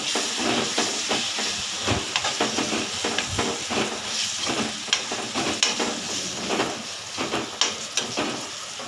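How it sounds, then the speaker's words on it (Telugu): Ginger garlic paste frying in a pan as a crab fry begins, with a loud, continuous hissing sizzle and rapid scraping stir strokes close up throughout. "పచ్చివాసన పోయే వరకు కలుపుకుందాం"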